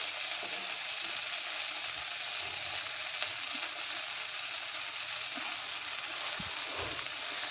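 A constant soft sizzle comes from okra cooking in a pan with turmeric and garam masala, with faint scrapes of stirring mixed into the hiss.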